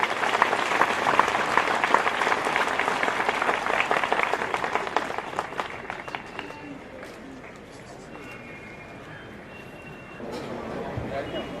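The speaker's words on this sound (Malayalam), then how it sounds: "എല്ലാവരും നല്ല ഒരു ക്ലാപ്പ് കൊടുത്ത് സന്തോഷത്തോടുകൂടെ ആ വിവരം അറിയിക്കും." Audience applause at a church event in Ranni, with dense clapping from a crowd for about six seconds that fades to scattered claps and then a brief murmur of voices and movement.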